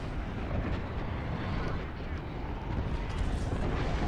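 Airstrike explosions rumble continuously in a video game match, a dense, loud barrage of booms and debris noise filling the scene.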